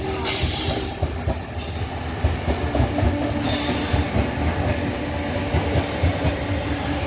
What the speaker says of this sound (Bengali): লোক তো ট্রেন যাচ্ছে